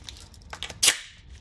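A Central Pneumatic 68027 palm nailer test-fired after a leak repair, giving one sharp, loud pneumatic bang amid faint light tapping.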